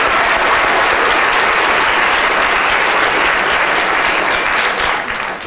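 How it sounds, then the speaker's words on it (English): A roomful of people applauds Charlotte, a loud, dense, unbroken wash of clapping that holds steady for about five seconds before easing off at the end. "Let's give a round of applause to Charlotte."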